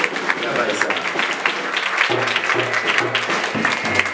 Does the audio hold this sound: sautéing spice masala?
no